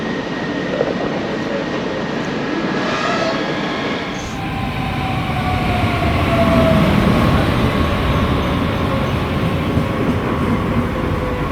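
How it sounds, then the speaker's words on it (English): A train rumbles past at a station in Düsseldorf, its broad, roaring noise swelling and holding steady with a faint high whine over the rush, no voices heard. "There's a train."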